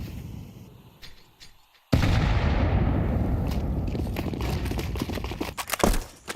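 MP5 submachine gun fire in a Counter-Strike esports match, a sudden loud burst of rapid shots after a quiet moment, followed by dense crackling game noise.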